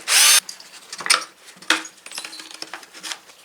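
A power driver removes screws from the upper shroud of a fire-damaged Stihl MS310 chainsaw: a loud, close whirring burst at the start, then scattered softer clicks, clinks and short buzzes of parts being handled.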